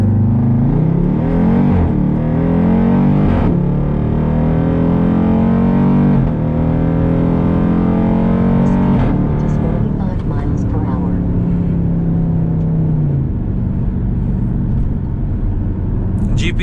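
A 2019 Dodge Durango SRT engine under full throttle, a loud deep roar climbing in pitch through the revs with audible shifts, heard from inside the cabin as people talk over it.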